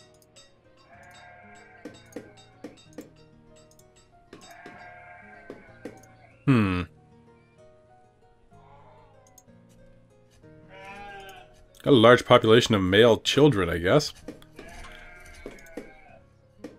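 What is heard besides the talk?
sheep bleating in the video game Banished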